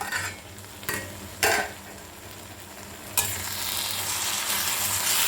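Pudina (mint) chutney ingredients sautéing in a pan, a soft steady sizzle broken by a few sharp spoon knocks and scrapes, with no talking.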